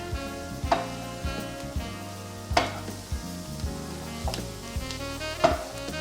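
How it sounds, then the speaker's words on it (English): Cornbread dressing mixture with tender vegetables being stirred around in a pan: a low sizzle under a sequence of distinct spoon scrapes and clacks against the pan at irregular intervals, close up with no talking. "Stirring it around, getting it all mixed up"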